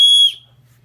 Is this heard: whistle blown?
yes